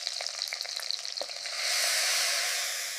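Ginger garlic paste added to hot oil with onions in a pan for a desi curry, giving a light crackle that swells into a loud, steady sizzle partway through, close and without talk.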